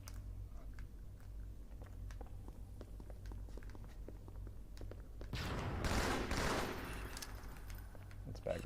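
A grenade explodes in online Halo 2 multiplayer, a sudden broadband burst about five seconds in that roars for roughly two seconds over steady game ambience and scattered clicks.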